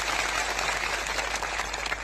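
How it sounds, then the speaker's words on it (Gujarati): A large crowd at an outdoor protest rally to save the Aravalli hills breaks into brief, dense applause, a continuous wash of clapping. "સૌ માટે એકવાર જોરદાર આપણે તાળીઓ પાડી લઈએ"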